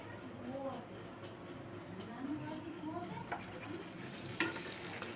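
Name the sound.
paratha frying in a little oil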